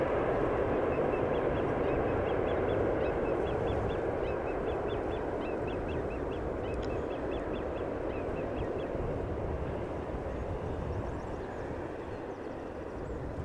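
At Amsterdam Schiphol Airport, a plane's engines give a sustained loud roar with a thin high whine riding on top, steady and fairly close, easing slightly toward the end.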